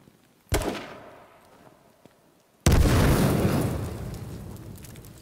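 Two booming grenade blasts in the H1Z1 video game: a sharp pop with a decaying tail, then a bigger, louder explosion about two seconds later that rumbles and fades slowly.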